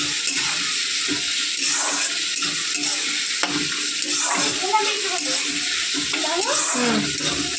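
Ingredients for a chicken recipe frying in a pan, a steady close sizzle running throughout with scraping stir sounds and a voice talking at moments.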